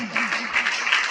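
A congregation at a Good Friday church service claps together in a brisk, continuous burst while a voice carries on over the sound.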